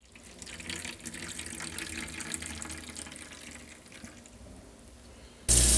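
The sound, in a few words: homemade red wine pouring through filter sock into bucket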